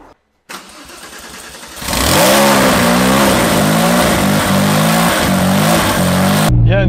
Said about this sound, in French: nous sommes partis faire un petit tour avec cette 9FF. De 950 chevaux.